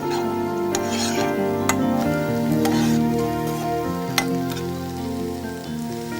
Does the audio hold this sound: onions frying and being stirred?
yes